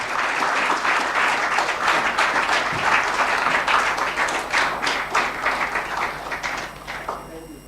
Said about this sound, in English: A hand of applause to our leader.